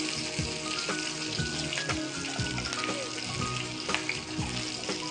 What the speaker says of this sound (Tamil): இது கூட சின்ன வெங்காயம், இது நல்லா வதங்கட்டும்.